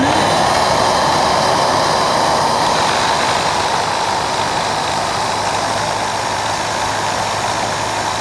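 A Henry Turbo HVR 200T-2 vacuum cleaner switched on and running with a steady, loud, continuous motor whoosh and hum that holds unchanged throughout, alone without talk.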